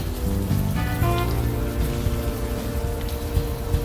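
Rainfall in the point-and-click adventure game Unavowed, a continuous soft patter running under a sustained musical tone, with no speech.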